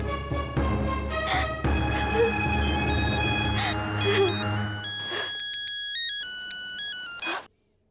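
A phone rings with a bright electronic ringtone melody, loud and steady for several seconds, then cuts off abruptly, set in a Hindi TV drama scene.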